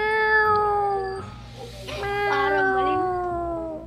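A human voice imitates a cat, giving two drawn-out, tonal meows, each rising and then bending down, loud and close, with only faint background noise underneath.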